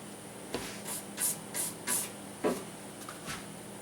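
A brush makes a series of short, breathy swishing strokes close by, about five quick passes, as it cleans off a guitar nut after buffing.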